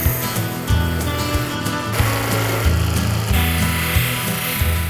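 A buffing wheel runs steadily and loud against a handcrafted knife blade dressed with light compound, giving a continuous motor hum with a grinding rub that shifts in pitch as the blade is worked across it.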